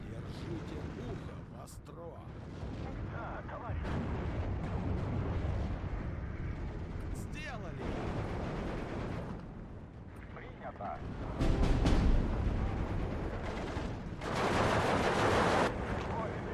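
Gunfire strikes transports during battle in the WW2 strategy game Steel Division 2, with bursts of shooting and booming impacts rising and falling over a busy combat rumble, loudest near the end.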